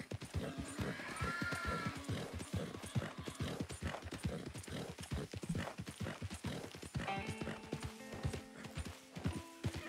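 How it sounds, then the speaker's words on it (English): Donkey hooves clip-clop in Red Dead Redemption 2, a steady rhythmic run of close hoof strikes with a few mechanical game sounds mixed in. "Oh, he's riding a donkey!"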